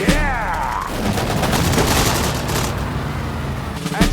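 Gunfire in Sudden Strike 4 during an Allied Operation Market Garden battle: a dense fusillade of overlapping rifle and machine-gun shots with booming impacts, loud and close, with no voices over it.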